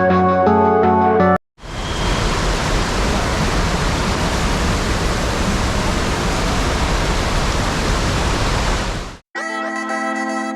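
Devkund waterfall roaring, a dense, steady wash of broadband water noise that fills most of the clip, loud and unbroken, with short bursts of other sound before and after.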